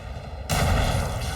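A grenade blast in the grim-dark sci-fi game Warhammer 40k: Rogue Trader lands abruptly, a loud broad boom that rolls on as a sustained rumbling roar after a quieter lead-in.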